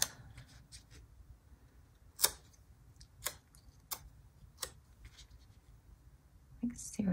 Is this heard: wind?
no